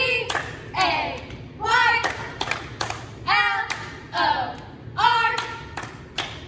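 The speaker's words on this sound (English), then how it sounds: "triple clap, one time slow, and then at a normal pace." Hand claps in groups of three, first slow and then at a normal pace, sound as short sharp snaps between a speaking voice.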